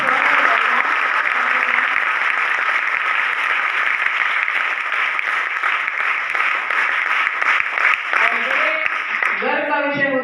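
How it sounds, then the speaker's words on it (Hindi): Audience applause in a college auditorium at a Vijay Diwas NCC event, a dense steady roar of many hands clapping throughout, with a voice speaking over it toward the end. "सबसे पहले जोरदार तालियों से आज के इस कार्यक्रम के उद्देश्य के लिए ताली बजाएं"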